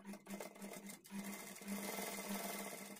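A sewing machine stitches along the lining edge of a blouse, a steady close-up mechanical whir with rhythmic needle chatter running throughout, briefly dipping between bursts.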